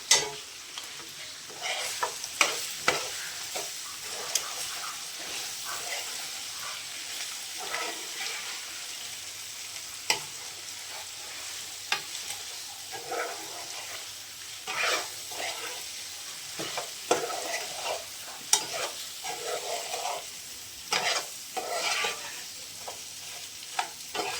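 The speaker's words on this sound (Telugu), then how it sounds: "ఇందులోనే కొంచెం ఉప్పు వేద్దాం. ఒకసారి కలుపుకుందాం మంచిగా." Chicken frying in a pan as salt is stirred in, a continuous close sizzle broken by frequent scrapes and clinks of the spoon against the pan, with no voices.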